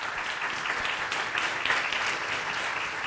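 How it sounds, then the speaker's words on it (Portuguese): Audience applause at a civil-society panel discussion, a steady wash of clapping from a room of people continuing throughout at moderate level. "Pedi uma salva de palmas"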